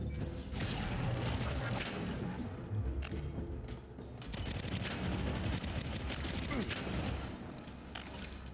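Fireworks spawned in a video game crackle and burst in rapid overlapping volleys, loud and dense with sharp pops, continuing for several seconds.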